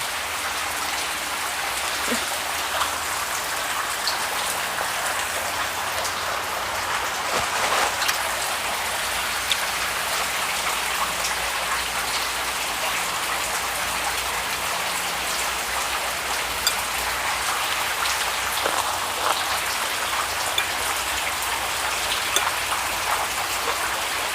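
Heavy rain pouring steadily for a long stretch during a thunderstorm with a power outage, a dense continuous hiss with occasional louder drops, no one speaking.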